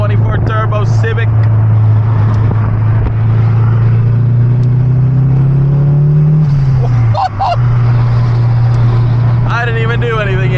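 K24-swapped turbocharged Honda Civic sleeper engine droning steadily and rising in pitch as it accelerates, heard loud from inside the car, with a brief shift-like dip, and people speaking over it.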